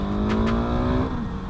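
A 2021 Husqvarna 701 Supermoto motorcycle engine holds a steady, throaty tone nearby with a pair of quick blips of revving early on, then settles back to an even drone.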